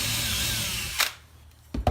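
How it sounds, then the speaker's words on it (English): A power drill bores through sheet metal backed by a piece of wood, a steady whirring grind that cuts off abruptly, followed by two short sharp clunks, heard up close. "the easiest way to drill through like a piece of sheet metal like this is put a piece of wood behind it"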